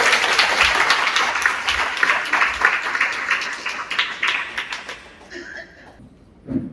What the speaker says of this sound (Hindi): हम ताली बजाकर उनका स्वागत करें।